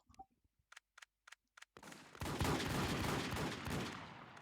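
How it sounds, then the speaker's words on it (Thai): Gunfire in the online survival shooter WarZ, a few isolated shots at first and then a sustained dense barrage of rapid overlapping shots, loud and continuous with no talking. "ตอนนี้ยิงกันนัวมากครับผม"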